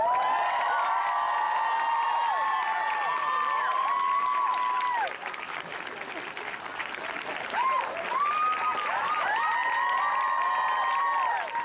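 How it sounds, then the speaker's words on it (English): A convention audience claps and cheers for a guest, a sustained wash of applause with high whoops and shouts layered over it, easing briefly midway before swelling again. "Everybody give him a big round of applause."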